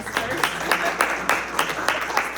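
A small gallery audience applauds after an artist's talk on her paintings, with rhythmic, fairly close clapping from a modest crowd that stays steady throughout.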